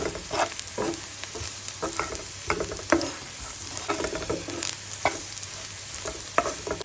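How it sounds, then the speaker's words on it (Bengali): Whole cumin seeds frying with chopped garlic in a pan, a crackling sizzle with repeated scraping stirs in an uneven rhythm, close and moderately loud, with no voices. "এখন এটা দেবো হচ্ছে আস্ত জিয়া এখন এটা ভালো করে ভেজে নেবো"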